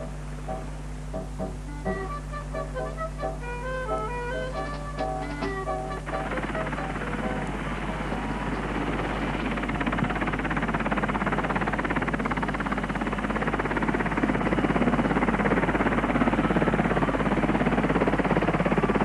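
An RAF helicopter's loud rotor roar builds and then holds steady as it lifts off, with a whining engine tone early on fading into broad noise.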